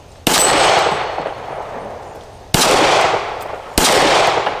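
Three loud, close gunshots from a Taurus G3 pistol at an outdoor range, each a sharp crack followed by a long ringing echo, spaced unevenly.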